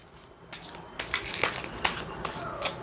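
Tarot and oracle cards are riffled and shuffled by hand in a series of quick papery bursts, close and moderately loud, repeating in an uneven rhythm for a few seconds.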